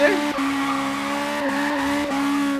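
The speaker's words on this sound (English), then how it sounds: "Trying to do some drifting here in the alleys." Tires squealing in a sustained whine as a low-power AE86 drifts through suburban alleys in Forza Horizon 3, the pitch dipping and resuming a few times over the engine drone.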